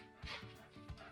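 Dogs barking indoors in the background at a home resin-art workspace, two or three short, faint yips and barks spaced apart, quiet and distant.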